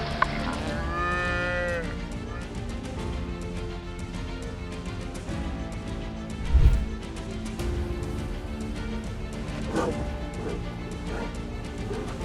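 A cow lows in a drawn-out moo near the start while a lion attacks it in Gujarat, followed by a dense, noisy struggle with a sharp thump midway.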